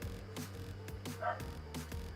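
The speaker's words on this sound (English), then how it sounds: "So I'm going to let her bark away at the tree all day long." A dog barks repeatedly at a squirrel up in a tree, three or four sharp, evenly spaced barks at moderate distance with a whimpering yip between them.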